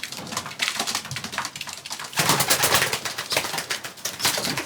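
Young stock pigeons moving about inside a loft, with steady rustling and fluttering and soft cooing close by, in irregular bursts that grow busier in the second half.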